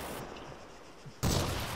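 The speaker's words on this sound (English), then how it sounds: "Took a bunch of fire from the east, I think." Arma 3 gunfire in a team hostage-rescue match: a faint, distant crackle for about a second, then a sudden louder burst of rifle fire near the end.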